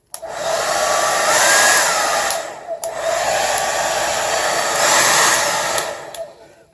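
A CONFU KF-5114 1875W ceramic tourmaline blow dryer runs on its heat setting, blowing a loud, steady airy whoosh that dips briefly once and cuts off near the end.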